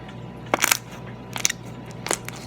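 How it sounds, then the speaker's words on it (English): Crunchy slime being squeezed and played with by hand gives a few sharp, close crackling crunches in separate bursts over a quiet background, with no talking. "it's kind of the best crunchy slime ever"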